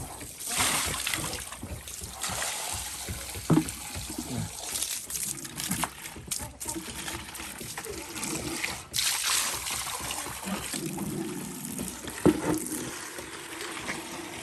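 Water splashing and trickling as chickens wade into it, a continuous watery wash with scattered small splashes, moderately close and steady throughout.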